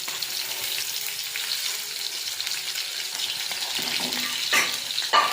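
Cumin, mustard seeds and green chili fry in hot sunflower oil in a pan, giving a loud, steady close sizzle with a couple of brief louder crackles and stirring scrapes toward the end, and no talking.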